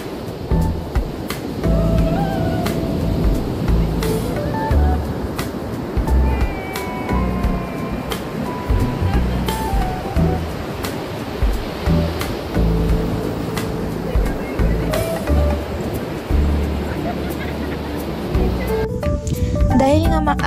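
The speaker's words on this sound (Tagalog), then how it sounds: "Dahil nga maalon pa ng mga oras na to" Rough ocean surf washes onto a beach in Zambales with a continuous rushing roar, and the noise of people and movement nearby sits over it.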